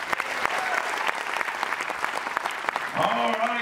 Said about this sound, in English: Give a nice round of applause on you, Wes.